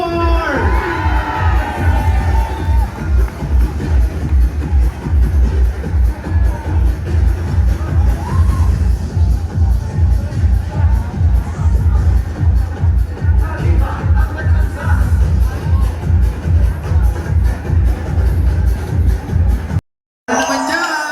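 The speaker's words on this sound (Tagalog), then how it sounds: "Pwede bang marinig ang malakas na palakpakan at sigawan ng Poblasyon 1 to 4?" A large crowd at a town anniversary parade in Tanza claps and cheers loudly, with children shouting and rhythmic banging throughout before it cuts off briefly near the end.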